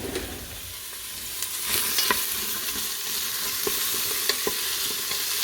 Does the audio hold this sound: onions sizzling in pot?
yes